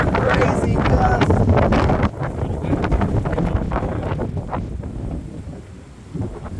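Strong gusts from an Augusta microburst, with winds up to 60 mph and storm rain, buffet a car in a dense, loud roar that eases after a couple of seconds and later swells again, with voices briefly audible.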